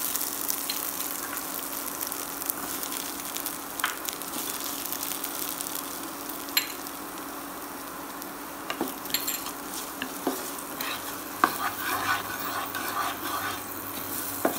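Potatoes, peas and onion with turmeric and salt stirred in a pan while cooking for kanda poha, a steady quiet sizzle with occasional faint scrapes and light clinks, close by and without voices.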